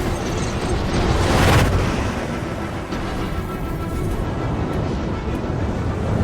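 A missile explodes in Star Citizen space combat, a broad booming burst that swells and fades over a steady low rumble of ship engines.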